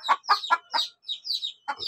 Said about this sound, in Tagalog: Yan ang isang inahin.